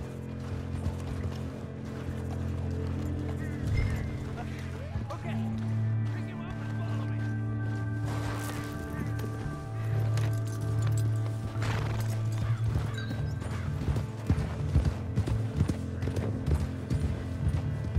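Horse hooves clip-clopping in the video game Red Dead Redemption, mingled with a whinny, game music and talking.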